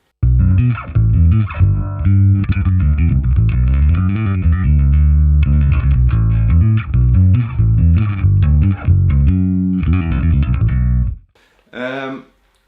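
A bass guitar played through a Line 6 HX Stomp distortion effect growls with a thick, gritty tone, sustained notes and short phrases ringing for about eleven seconds before a brief pause and a final quick burst.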